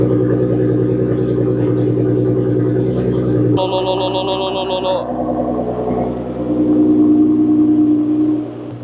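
A 2023 Nissan GT-R revs its exhaust in a steady, deep drone that changes pitch partway through and then swells again, loud and close. A brief high electronic beeping sounds over it, and a voice talks at times.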